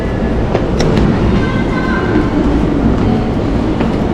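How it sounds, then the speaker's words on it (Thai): Steady, loud outdoor bustle in front of Mitaka station in Japan, with a broad rumble of passing rail traffic and faint distant voices and clatter. "บรรยากาศด้านหน้าสถานีนะคะ"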